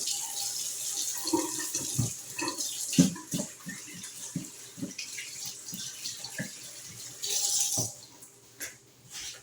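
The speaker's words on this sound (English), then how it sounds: "Let me wash my hands with soap" Tap water runs steadily while hands are washed with soap before handling bone-in pork chops, with splashing, small drips and brief knocks from the sink, close and fairly constant with a louder gush near the end.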